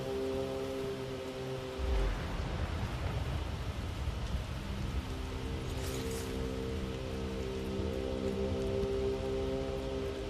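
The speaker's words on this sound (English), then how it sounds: "And it's raining out." Steady rain falling in the video game BELOW, a soft, continuous wash of drops heard faintly under a sustained, ominous musical drone, with a brief low rumble early on.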